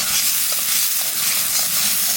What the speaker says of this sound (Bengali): পেঁয়াজটা একটু ভেজে নিলাম